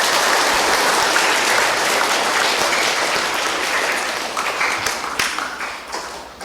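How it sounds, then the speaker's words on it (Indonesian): Congregation at a Catholic mass for adult baptism and first Eucharist gives sustained applause, a dense wash of clapping inside the church that gradually thins and fades toward the end. "saat ini kita memberikan aplaus tepuk tangan untuk mereka"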